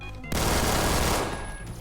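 A G18 machine pistol in the shooter game Phantom Forces fires one rapid, loud burst lasting about a second, then the shots cut off and the game sounds carry on quietly, no talk.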